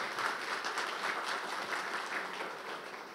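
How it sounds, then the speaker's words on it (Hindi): Loud, steady applause from an audience at a film music launch event in Mumbai, a dense continuous wash of clapping holding for a few seconds with no voices over it. "Please इनके लिए जोरदार तालियां हो जाए।"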